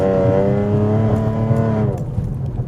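Audi S5 stage 3 running on ethanol with its exhaust valves open, a loud, steady rumbling drone with strong harmonics that holds for about two seconds and then drops away into a rougher, lower burble.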